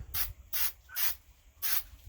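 Spray adhesive hisses from an aerosol can onto the curved top surface of a balsa helicopter rotor blade, four short close bursts with brief pauses between them and no talking.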